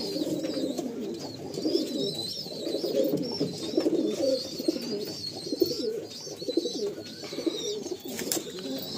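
Pigeons in a crowded breeding loft at Amtala, Behala coo in continuous overlapping rolls, close and full, with a few thin chirps above.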